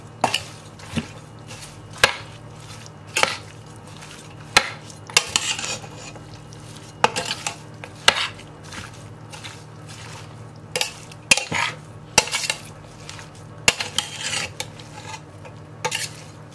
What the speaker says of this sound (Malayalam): നന്നായിട്ട് കൈയോ അല്ലെങ്കിൽ സ്പൂൺ ഉപയോഗിച്ചുകൊണ്ട് നന്നായിട്ട് മിക്സ് ചെയ്യാം